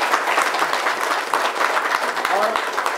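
An audience applauds at a birthday gathering with cancer patients, and the clapping holds as a steady, dense wash throughout. Voices can be heard faintly underneath.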